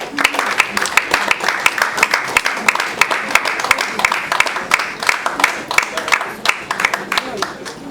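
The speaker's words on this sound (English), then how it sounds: "a round of applause for them" Clapping rings out for award winners at a bank's International Women's Day event, a steady round of hand claps from a gathered crowd, fairly close and loud throughout.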